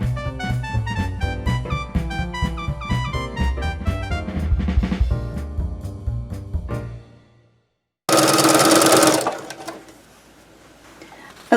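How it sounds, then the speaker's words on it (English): Sewing machine stitching down the sides of a lined tote bag, a steady rapid close mechanical chatter that slows and stops, then a louder burst of handling noise. "so now we're going to sew down the sides."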